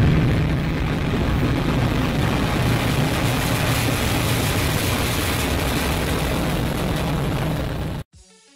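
A rocket lift-off sound effect follows a French countdown: a loud, continuous roar with a heavy low rumble holds steady for about eight seconds, then cuts off abruptly.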